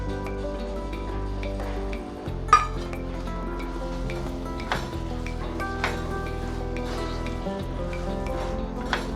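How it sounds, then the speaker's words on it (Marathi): A spoon scrapes and stirs a thick milk-sweet mixture made from ghee residue and dry fruits in a metal wok, with occasional clinks, set against a steady low background hum. "आता कढईमध्ये त्याचा एक छान गोळा तयार होईपर्यंत आपल्याला हे परतत राहायचं आहे"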